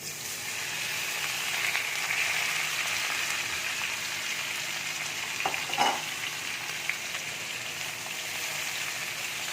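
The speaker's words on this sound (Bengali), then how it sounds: "এবার আমি ডাঁটা আলুটা দিয়ে দিচ্ছি।" Gourd stalks and potatoes fry in a wok of hot oil tempered with dried red chilli, producing a steady, dense sizzle with a short burst of stirring and crackle midway, close and without talk.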